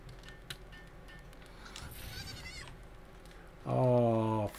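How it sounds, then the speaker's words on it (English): Sheep in the video game Palworld bleat once, a loud, close, wavering cry near the end, following quieter game ambience and a brief high chime. "Sheep. I know it's a sheep."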